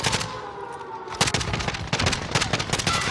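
Rapid automatic gunfire from a Call of Duty Warzone match, loud and dense bursts of shots with a brief lull before volleys resume through the rest of the clip.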